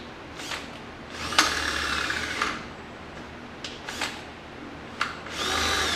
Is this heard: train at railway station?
no